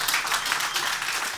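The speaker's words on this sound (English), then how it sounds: "yeah, you can applaud" Conference audience applauding during a SUSE Manager tutorial talk, a brief burst of dense hand clapping from many people in a room, steady throughout.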